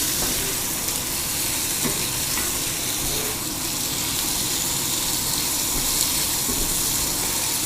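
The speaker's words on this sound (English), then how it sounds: "I want the tomato stuff to melt and to kind of fry in just a little bit." Tomato and zucchini fry in a pan as a zucchini side dish for a barbecue, giving a steady, loud, dense sizzle throughout with a few faint stirring knocks and no talk.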